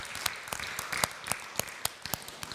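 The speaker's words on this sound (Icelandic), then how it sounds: "Það má alveg klapp fyrir þessu." A church congregation breaks into applause after a service, a steady patter of many clapping hands with sharper individual claps standing out, fairly close and sustained throughout.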